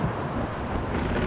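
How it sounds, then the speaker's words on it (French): A rainstorm hisses steadily, with gusting wind and a low thundery rumble filling the short stretch at a moderate, even level. "La pluie est tombée, les torrents sont venus, les vents ont soufflé et ont battu cette maison."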